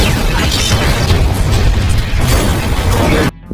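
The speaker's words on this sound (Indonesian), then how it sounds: "dan markasnya juga ikut meledak" A mafia hideout blows up in an action film, a loud, dense, sustained blast rumble with crackling debris that roars for about three seconds and then cuts off abruptly.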